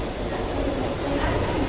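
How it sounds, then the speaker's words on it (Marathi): A Kasara train arriving at a station platform, with a continuous close rumble of rail noise and a brief high wheel squeal midway. "कारण कसारी ट्रेन आलेलीच आहे"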